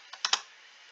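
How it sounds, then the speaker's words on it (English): A few quick keystrokes on a computer keyboard, three close, crisp clicks in quick succession, then quiet room tone. "let's do some typing."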